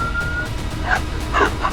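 A police dog during an arrest lets out a few sharp yelping barks and whimpers, loud and close, over a steady low rumble with a brief siren-like tone at the start.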